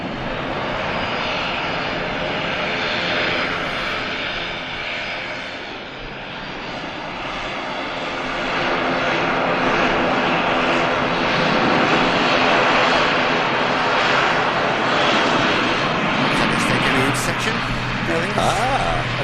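A KLM airliner departing Manchester Airport for Amsterdam Schiphol roars loudly and continuously, its engine noise swelling and holding strong for the full stretch.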